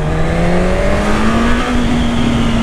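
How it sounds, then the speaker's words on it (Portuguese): A new motorcycle accelerates hard close by, its engine note climbing steadily in a loud, continuous rising whine with a rough, rushing roar beneath it. "Depois que o motor encheu, parece que nada segura essa moto."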